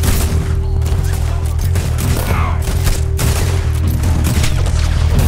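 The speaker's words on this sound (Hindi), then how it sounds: "ये लोग एक गोली चलाते हैं फिर तुरंत रीलोड करते हैं।" Enemies in Red Dead Redemption 2 fire a rapid exchange of close, loud gunshots in bursts, with booming reports and brief pauses between volleys.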